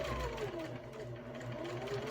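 A sewing machine runs in a continuous back stitch along a marked line, a quiet steady whirring hum with no talk over it.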